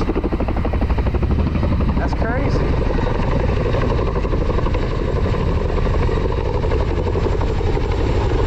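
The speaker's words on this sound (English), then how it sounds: "Got some helicopters flying over. Wow. Look like army helicopters." Army helicopters pass overhead beside a fishing pond, their heavy rotor thump and engine roar loud and steady throughout, with someone briefly speaking under the din.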